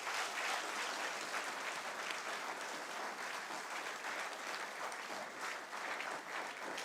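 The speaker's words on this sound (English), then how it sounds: "give Mr. Jeremiah, our past principal, a lusty round of applause again" An audience claps steadily at a school graduation ceremony in a hall. The dense applause is faint and distant, and no one speaks over it.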